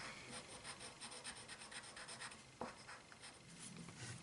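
Felt-tip markers scratch and rub steadily across paper while colouring, a close, soft, continuous scribbling with one sharper tap partway through.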